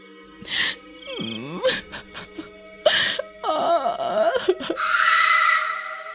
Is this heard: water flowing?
no